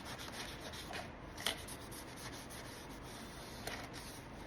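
Hands rub and smooth material over a paintable box, making a soft continuous scratchy friction sound close by, with a couple of slightly sharper scrapes.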